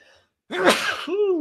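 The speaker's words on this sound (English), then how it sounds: "I believe that would be the first live sneeze" A single sharp sneeze follows a brief quiet intake, loud and close, with a short voiced sound trailing after it.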